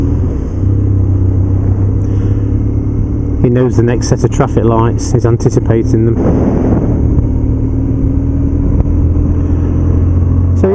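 Engine of a 2007 BMW R1200GS motorcycle riding through traffic, a steady low rumble and road noise throughout, with someone talking over it for several seconds in the middle.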